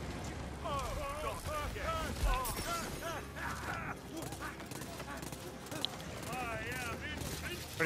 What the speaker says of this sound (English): I think it's shooting Bernadette